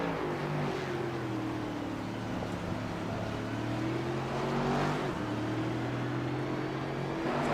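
A race car engine at Circuit of the Americas runs under power, heard as a steady, fairly distant engine drone with slowly shifting pitch and a slight swell near the end.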